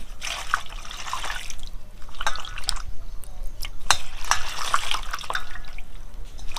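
Water splashes and trickles over fresh roses being rinsed by hand, with irregular drips and pours that surge and pause, close and fairly loud.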